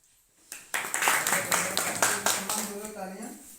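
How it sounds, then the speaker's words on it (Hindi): Villagers clap together at an outdoor village meeting in Bhatpura, Hathras: a steady run of sharp, rhythmic hand claps. A voice rises near the end as the clapping carries on. "तालियां।"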